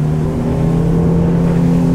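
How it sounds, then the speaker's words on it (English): A Sea Ray 230SPX boat with a 200 hp Mercury outboard accelerates, a loud, steady engine drone with a strong low hum that rises slightly in intensity, close and continuous. "I'm running the 200 horsepower Mercury, and let's just give it some speed."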